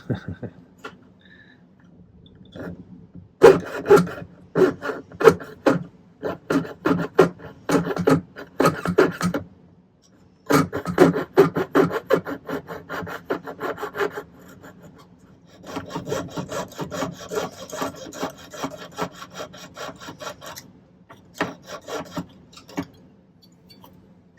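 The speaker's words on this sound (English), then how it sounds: "we'll see if Chad's having a good sawing day or not" Rapid back-and-forth sawing strokes rasp through silver in bursts while making a locket, pausing briefly between runs, close and fairly loud with no voices.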